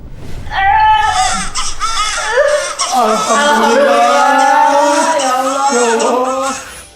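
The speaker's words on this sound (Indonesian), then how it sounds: "terdengar tangisan suara bayi" A newborn baby cries loudly and close by in a series of sustained, rising and falling wails that last several seconds before fading at the end.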